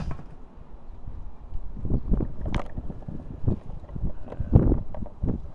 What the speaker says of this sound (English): I hope that wind noise isn't bad. But this wind is kind of starting to kick up.